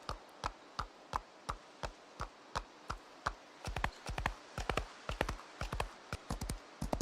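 Horse hooves clip-clopping in the Project Zomboid video game, a steady, crisp trotting rhythm that quickens into a faster, denser gait partway through, clear and close with little else around.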